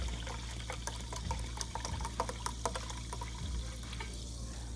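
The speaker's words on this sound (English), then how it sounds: "So I'm gonna pour about 1 cup" Sparkling mineral water poured into a measuring cup for vegan waffle batter, a steady close splashing and fizzing stream with small crackling bubbles, heard alone without talk.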